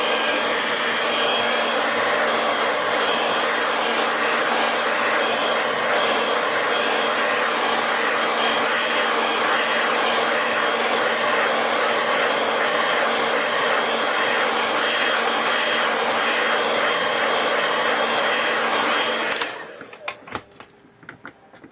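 A hair dryer blows steadily over a watercolour landscape painting to dry it, a loud close whooshing hum that runs unbroken for almost twenty seconds before cutting off, followed by a few faint clicks.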